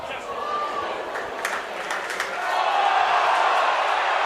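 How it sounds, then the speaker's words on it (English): Rugby league crowd at Odsal, home of the Bradford Bulls, in bright sunshine appealing for a penalty: a broad roar of shouting voices that builds louder toward the end, with a few sharp whistles cutting through. "Crowd want a penalty."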